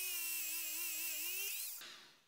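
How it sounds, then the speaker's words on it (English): A small power drill bores into the plastic head of an anime figure, giving a steady high whine that holds for over a second before the pitch drops and the sound fades as the drill stops. "I will drill it out teeny tiny bit more"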